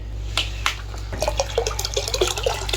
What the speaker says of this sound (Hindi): पंप चलाने से पानी का सर्कल कंप्लीट हो चुका है